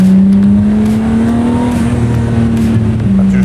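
An old Rolls-Royce engine idles while warming up, a loud, close, steady hum with a slight rise and fall in pitch.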